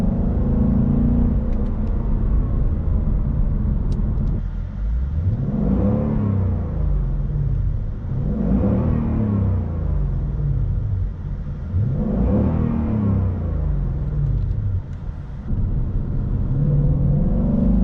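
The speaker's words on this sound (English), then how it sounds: "I have the car in quiet mode so that we can hear the intake better." A 2020 Mustang GT V8 with an aftermarket intake, exhaust set to quiet mode, idles with a loud close rumble and is revved repeatedly, three rising-and-falling swells heard alone with intake whoosh over the deep engine drone.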